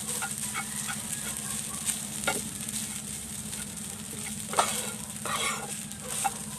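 Leftover rice sautéing in oil, a quiet steady sizzle with periodic spatula scrapes and stirring taps, close and fairly soft, with no talking.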